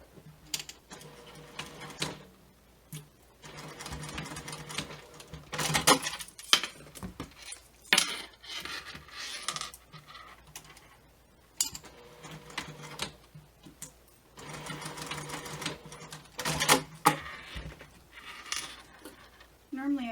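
Domestic sewing machine stitching down the turned-under ends of a handmade bag, running in bursts of busy mechanical whirring and clicking with short pauses between runs, at moderate level with no talk over it.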